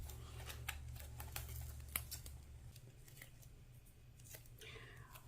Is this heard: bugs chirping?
no